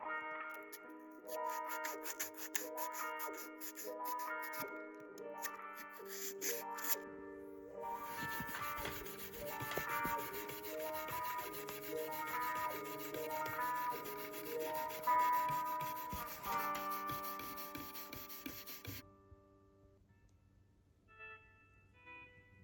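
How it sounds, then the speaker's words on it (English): Sandpaper pressed under a fingernail rubs across a tarnished vintage guitar in quick, quiet, repeated scratchy strokes that continue for most of the stretch before fading out. "I am also having to come through with the sandpaper on my fingernail"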